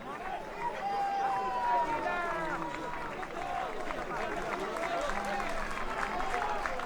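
A home crowd applauds at an amateur football match between Atletico Masainas and Isili, steady clapping and crowd noise spread through the stands under a commentator's voice.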